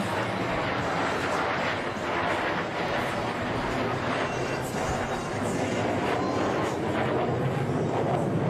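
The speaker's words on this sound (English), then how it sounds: "All three aircraft flying as one in this graceful 360-degree" Blue Angels jets flying the Diamond roll in formation at about 400 mph over Pensacola Beach, a steady, broad, distant roar that holds for the whole stretch while a voice talks over it.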